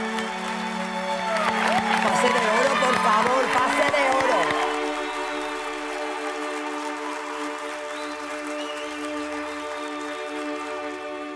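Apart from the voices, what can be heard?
audience applause on Spain's Got Talent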